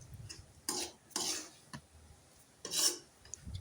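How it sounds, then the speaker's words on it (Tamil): Carrot and egg mixture being stirred in a pan, heard as three or four short scraping rubs of a utensil against the pan surface, close and fairly quiet, with pauses between strokes and no talking. "நல்லா மிக்ஸ் பண்ணிக்கலாம்."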